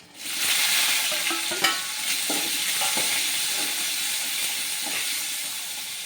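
Fried tempering seasoning is tipped into a hot pan for a vegetarian egg curry and stirred. A steady loud sizzle runs throughout, with a few scraping spatula strokes and soft clinks.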